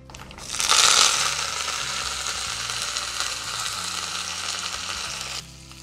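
Dried red chillies, stems still on, sizzle loudly in hot tempering oil for upma, a steady bright crackle that swells at first and runs on without a break, with no voices.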